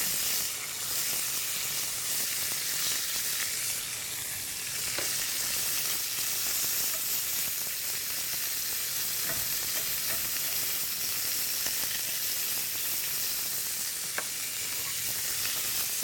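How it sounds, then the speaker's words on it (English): Meat sears hard in a hot pan during a quick sauté, a steady broadband sizzle and hiss holding evenly throughout with occasional small pops and crackles, close and continuous with no voices. "I'm going to sear this quickly and take it out of the pan"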